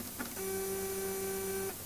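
A stepper motor driven by an ESMC-04 controller at 50 steps per push gives a faint steady whine for about a second and a half, starting after a couple of soft clicks over a quiet background.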